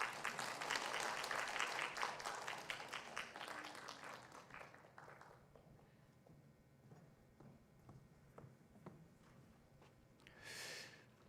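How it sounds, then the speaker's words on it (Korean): A church congregation applauds during a Sunday service, a burst of clapping that starts strong, thins out and fades to scattered claps, fairly faint overall. "우리 박수로 축하하겠습니다."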